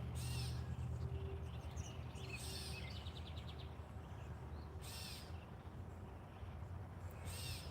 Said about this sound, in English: I'm not happy about that damn bird.